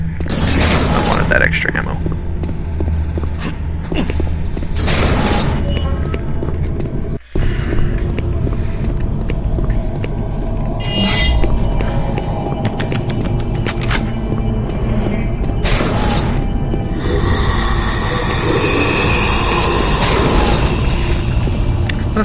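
Deep rumbling quake and heavy booming blasts on Mars in the shooter Doom 3 roll on continuously for over twenty seconds, with sudden impacts and someone talking over the din.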